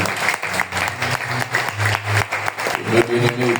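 A church congregation claps steadily and fairly loudly at an evangelical campaign, with voices mixed in beneath the applause.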